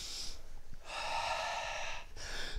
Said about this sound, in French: Et stop. On respire.